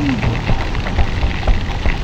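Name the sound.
rain falling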